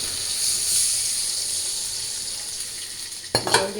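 Steady sizzle and hiss of spiced potatoes frying in a pan for curry, then a sudden louder burst of bubbling as water is poured in near the end, with no talking.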